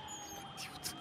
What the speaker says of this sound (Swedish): Det kommer en ambulans här